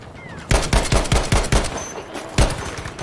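Gewehr 43 rifle fire in a shooter game: a rapid burst of about six loud, sharp shots, then a pause and one more crack, close and dominant.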